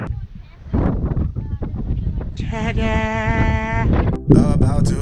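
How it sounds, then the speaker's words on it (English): Strong wind buffets the microphone aboard a sailing boat in the Whitsundays, a loud, gusty roar with voices talking through it and some sharper noises near the end. "I tried to get the drone up, but it's really, really windy."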